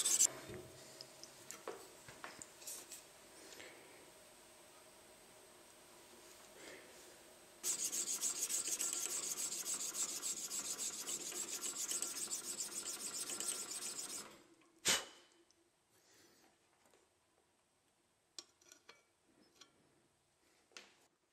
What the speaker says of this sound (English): Sanding can be tedious, but when approached in the correct state of mind, it becomes quite relaxing